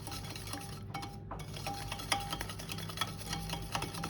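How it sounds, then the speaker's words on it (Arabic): A spoon stirs creamed sugar, ghee and oil in a bowl, making quiet, steady scraping and light clinking taps against the bowl's side, fairly faint and continuous. "وهقلب كده كويس"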